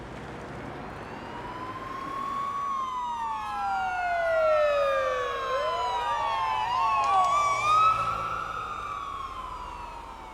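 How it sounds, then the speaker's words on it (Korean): An ambulance drives past near a coastal road with its siren wailing, the rising and falling tones growing louder as it approaches and then shifting as it moves away, over a low road rumble. "지나가는 구급차를 다시 따라가"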